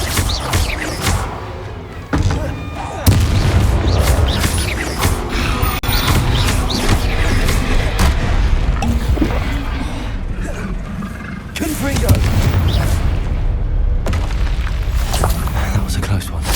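Bombarda spell explosions in the Hogwarts Legacy video game, repeated heavy booms and rumbling crashes amid chaotic combat noise, with voices talking throughout.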